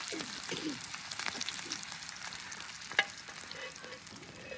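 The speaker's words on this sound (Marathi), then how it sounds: "सगळ्या चारी बाजूनी अंगाने ते भाजून घेणार आहे तिला." Stuffed green chillies frying in oil in a pan: a constant soft sizzle with light stirring scrapes and one sharper clink of a utensil, fairly quiet and close, with no talking.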